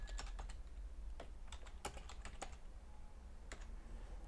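Someone types a username and password on a computer keyboard, a quiet irregular run of close key clicks in short bursts with pauses between.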